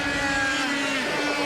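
Formula A racing kart engine choked by the driver at an Australian CIK championship round, a loud, close, continuous high-pitched buzzing drone whose pitch wavers and dips briefly without a break.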